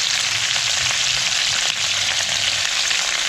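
Spring onions sizzle steadily in a hot frying pan, a continuous close crackling hiss with no talk.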